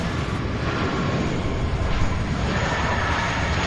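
Military jets fly over Louisville International Airport, a dense continuous roar of engine noise that stays loud and fairly even across the stretch.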